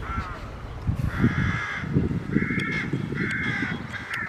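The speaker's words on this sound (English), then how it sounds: "I was taking this because I saw the crow" A crow in a graveyard caws repeatedly in steady, evenly spaced harsh calls, fairly close and clear over a low outdoor background, with no talking.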